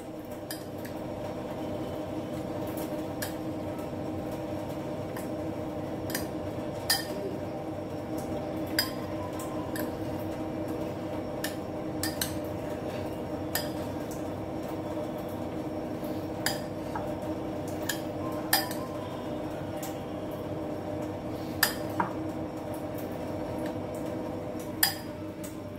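A spoon mixing corn chaat with fine sev in a bowl, steady soft stirring with scattered light clinks and taps against the bowl, close and without talk.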